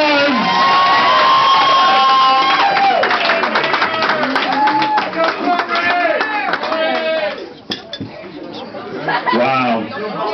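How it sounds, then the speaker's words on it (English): A restaurant crowd claps and cheers for Chef David, loud and sustained applause with shouts and whoops over a busy background of chatter and voices. "Please give him a round of applause."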